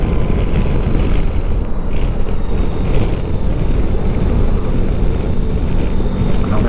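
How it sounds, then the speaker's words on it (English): Strong wind on high open moorland at Dartmoor roars steadily and loudly into the microphone, a constant buffeting rumble with no pauses. "Feel it's pretty windy up here already."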